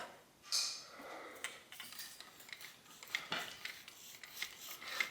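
Soft scraping and rubbing as a bicycle stem is slid off a threadless steerer tube during a headset overhaul, a quiet, uneven metallic rasp with faint ticks.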